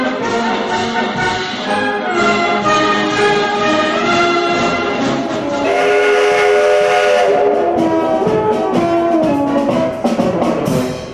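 Steam whistle of the legendary locomotive Lebedyanka heading the Pobeda train as it arrives at the station for a commemorative parade, loud and sustained over music-like tones and the bustle of a crowd for about eleven seconds.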